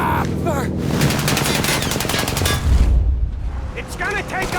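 Bursts of rapid gunfire and heavy booms fill a chaotic firefight in Mafia Definitive Edition, loud and close, with shouting voices breaking through between volleys.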